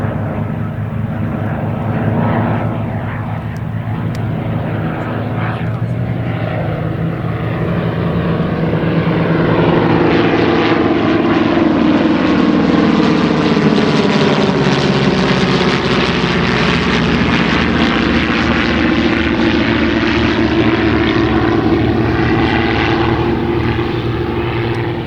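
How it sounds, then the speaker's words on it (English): A CT-4A propeller plane at an air show drones steadily, swelling louder as it passes close by, its engine tone shifting and then fading slightly; no one speaks. "Quite different to hear the sounds of these aircraft as they come past."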